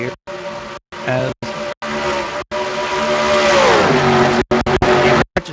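Race cars roaring down the straightaway at Charlotte in a NOVAR Gatorade Series race, engines loud and close with a rising then falling pitch as one passes, broken by brief dropouts.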